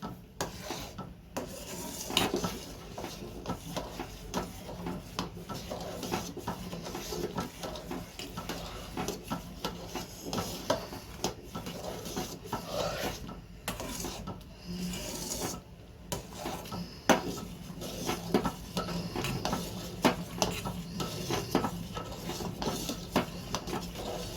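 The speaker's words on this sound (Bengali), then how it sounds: "এটাকে এইভাবে নাড়তে নাড়তে যখন রেডি হয়ে যাবে তখন ঢেলে ফেলতে হবে" Chocolate dessert mixture stirred in a pan at home, a steady rasping scrape of spoon against metal continuing without pause, close and moderately loud throughout.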